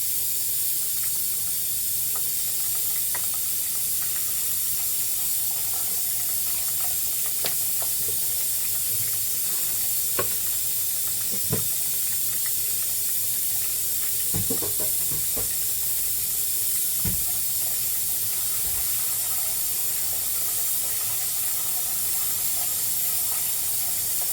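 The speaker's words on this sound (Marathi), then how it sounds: "हे बघा, आलं लसणाची पेस्ट टाकते" Ginger garlic paste sizzles in a clay pot for a mutton dish, a steady close hiss with scattered small pops and crackles throughout and no voices.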